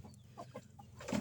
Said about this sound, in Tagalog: Ayan, pinapakain ko pa inahin